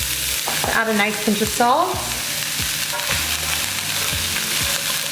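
Diced yellow onions sizzle steadily in a pan while being stirred, with a few sharp scraping clicks of the utensil and someone talking briefly over the frying.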